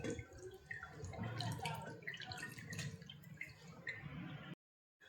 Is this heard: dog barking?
no